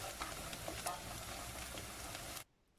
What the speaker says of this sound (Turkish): Doğramış olduğumuz soğan ve sarımsağı da ekleyelim. Ve pembeleşinceye kadar iyice kavuralım.